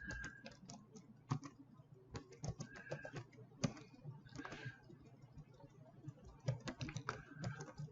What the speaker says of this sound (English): key in Git init and hit the enter key.